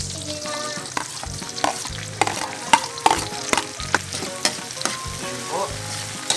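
Chopped tomatoes go into a pan of frying garlic and onion while cooking squid adobo, a steady sizzle under repeated clinks and scrapes of a utensil stirring at an irregular pace.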